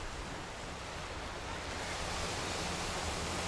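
Waves at a wild stretch of Cleopatra Beach in Alanya, Turkey, make a continuous, even wash of surf noise with no distinct breaks and no voices.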